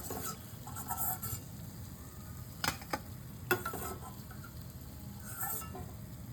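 Bread slices fry quietly in a pan for Hyderabadi double ka meetha, a soft steady sizzle broken by a few sharp clinks and taps of a utensil against the pan.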